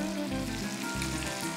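Buttered shrimp with garlic, olives and chili seasoning frying in a pan, a dense continuous close sizzle with a low underlying rumble and no talking.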